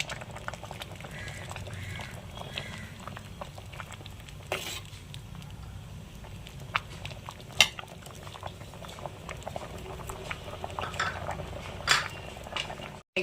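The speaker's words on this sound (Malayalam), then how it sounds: "ഇനി ഇത് നന്നായിട്ടൊന്ന് ഇളക്കി കൊടുക്കാം" A spoon stirs half a cup of grated coconut into simmering Vishu kanji rice porridge. A gentle bubbling and a wet, thick churn run steadily, with light clinks of the spoon against the pot.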